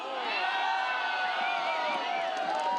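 Crowd cheering and whooping at a men's pickleball semifinal, a steady, loud wash of voices from spectators sustained throughout with scattered shouts rising above.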